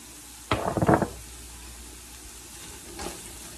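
A brief burst of stirring as poultry seasoning is worked into Italian sausage dressing in a pan, with a soft rhythmic scrape lasting about half a second and a faint second stir later against a quiet kitchen background.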